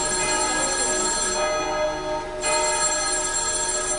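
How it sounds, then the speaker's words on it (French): A telephone rings in a police judiciary office in Lille, a steady electronic ringing tone that holds loud and continuous throughout, with no voices over it. "un coup de téléphone retentit dans les locaux de la police judiciaire de Lille"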